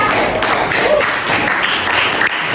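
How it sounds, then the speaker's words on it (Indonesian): Classmates clap for a presenting group in a classroom during a maths lesson, a loud burst of mixed applause from a room of students, with some voices mixed in. "Oke, kelompok kerja kita kasih tepuk tangan dulu ya teman-teman."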